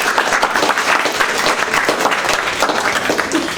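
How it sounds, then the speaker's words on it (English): A round of applause from the audience at a cocktail class event in a wine shop, dense steady clapping lasting throughout, fairly loud and close with crowd murmur mixed in. "if you guys can just give him a round of applause for coming down."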